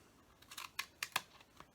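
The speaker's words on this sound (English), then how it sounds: "These are my glue scissors." Scissors snipping cereal box cardboard, several quiet, sharp cuts in an irregular sequence close up, with no talk.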